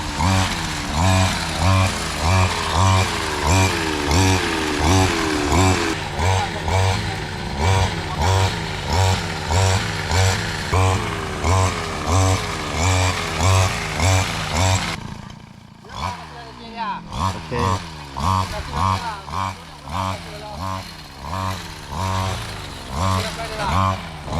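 A brush cutter's small engine runs steadily with a rhythmic pulsing drone, briefly dipping then revving back up; someone talks over it.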